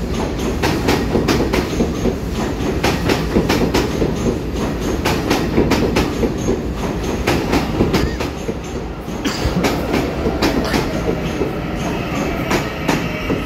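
A three-car DRC diesel railcar train, DRC1016, DRC1033 and DRC1035 in original livery, running on the Pingxi line toward Badu, its wheels beating a steady clickety-clack close by over a rumbling diesel engine for the whole stretch.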